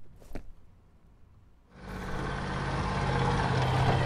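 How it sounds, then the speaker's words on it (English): Truck engine in the video game F.E.A.R., starting after a faint click and a short quiet gap, then rising into a loud, steady low rumble that grows as it approaches. "That sounds like a truck."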